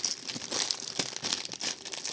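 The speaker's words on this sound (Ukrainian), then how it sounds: "Я відкрию слідуючу посилку." Parcel packaging crinkles and tears as someone opens a delivered package, a close series of irregular rustling, crackling bursts at modest volume, with no speech.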